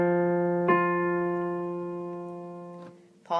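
A steady sung-like or instrumental reference pitch for the note do in an ear-training lesson, held alone for about three seconds with a slight re-attack near the start and a new onset at the end.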